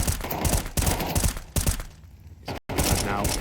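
Counter-Strike 2 gunfire in a competitive match on the map Ancient, with rapid bursts of loud, close shots, a brief lull and then more firing, and no clear speech.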